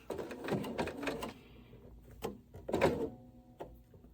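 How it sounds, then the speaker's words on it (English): A sewing machine stitches a fabric appliqué in short, close bursts of mechanical whirring and clicking, separated by brief pauses, at a quiet level. "So I'm going to start stitching."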